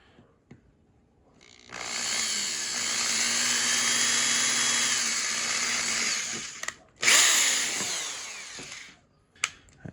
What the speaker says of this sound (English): Take your drill, and much like the wand, we're gonna start with a smaller one to drill a pilot hole through the middle.